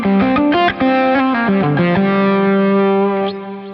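An electric guitar runs through a Venus drive pedal, giving a crunchy overdriven tone: a fast string of notes that ends on one sustained ringing note, loud and up close.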